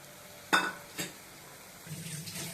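A utensil clinks against a pan twice, followed by a soft sizzle of cauliflower frying and being stirred.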